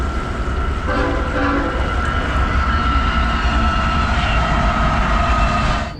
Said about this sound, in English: Somewhere between 30 and 50 trains a day pass through here